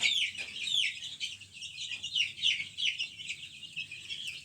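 Many chicks peep continuously in high chirps, with soft clucking from chickens mixed in, close and busy.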